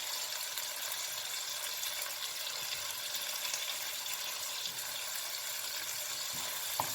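Tomatoes, salt, red chilli and turmeric fry with zucchini in a pan on the stove, a steady faint sizzle with a few soft clinks and stirs.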